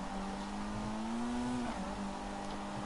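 The Vapid Flash GT, a four-wheel-drive car in Grand Theft Auto 5, drives with a steady engine drone that rises in pitch as it revs, then drops after a gear change, loud and continuous with no talk.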